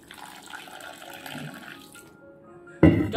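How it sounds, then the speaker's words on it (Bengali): Water poured from a tap or jug into flour for egg paratha batter, heard as a soft trickling stream with a louder splash burst at the very end, no voices. "এই সময় আমি জল দিয়ে দেব।"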